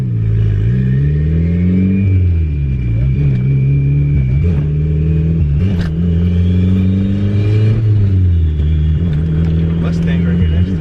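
A turbocharged B20V-swapped Acura Integra making about 270 wheel horsepower on 9 psi of boost pulls hard on the street, its engine droning loud and close as revs rise and fall through several gear changes over about ten seconds.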